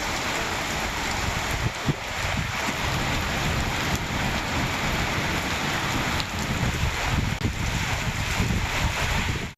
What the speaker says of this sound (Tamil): கனமழை பெய்தது.